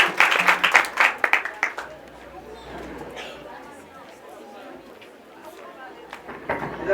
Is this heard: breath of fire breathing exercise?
no